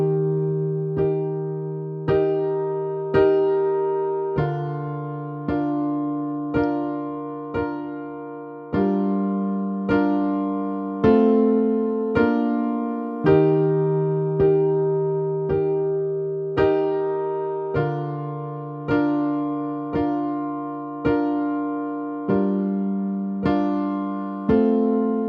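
Piano plays the verse accompaniment of a song as a steady series of struck chords, each left to decay before the next lands, changing harmony every few bars. Close and clear, with no voices.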